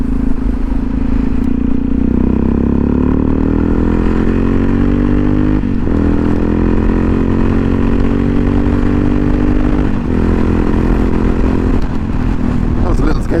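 A motorbike engine drones loudly and steadily while riding, its pitch rising and falling gently with a couple of brief dips as the rider changes gear, with wind rumble underneath.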